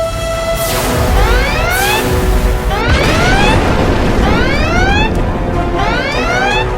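Sci-fi weapons fire from enemy ships: repeated descending laser zaps in bursts over deep rumbling explosion booms, loud and continuous, with no talking.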